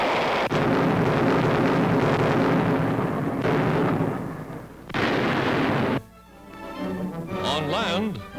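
Gunfire erupts as American reinforcements land under fire off the coast of Africa during a German attack, with dense, loud bursts and rumbling blasts over a voice narrating, then a sharp drop to quieter firing.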